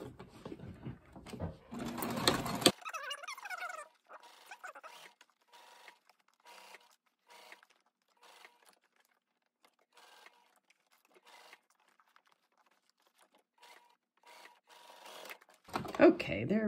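A sewing machine stitches a fabric backpack in a short loud burst at the start and again at the end, with quiet handling noises and someone speaking softly in between.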